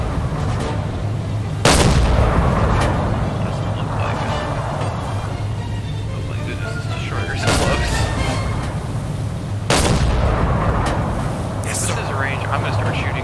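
Deck gun on the submarine USS Nautilus SS-168 fires in Silent Hunter 4, heavy booming shots at roughly 1.7, 7.5 and 9.8 seconds over a steady low engine rumble, with a person talking throughout.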